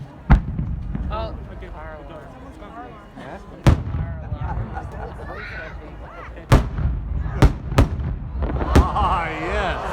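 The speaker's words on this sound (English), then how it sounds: "It's a 10-inch, 4 heavy timed reports to a ring of red inserts, then a bottom shot." A Wiley 10-inch firework shell at an outdoor daylight show fires heavy timed reports and then a bottom shot: several sharp, loud booms spaced irregularly at a distance, with people talking and reacting in between.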